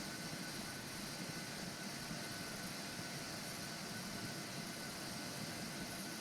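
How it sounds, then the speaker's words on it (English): An aircraft passes overhead near an airport, a steady, broadband engine roar that holds evenly throughout with no voices. "I see a plane going overhead."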